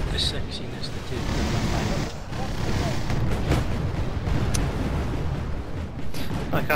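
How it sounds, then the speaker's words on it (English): Artillery explosions from the real-time strategy game Wargame Red Dragon form a dense, continuous rumble of booming blasts throughout, with a voice talking over the barrage. "I can't hear you over all of these explosions."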